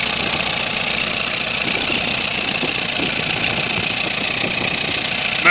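A car engine idles steadily up close, giving a constant mechanical hum with a faint ticking texture and no voices.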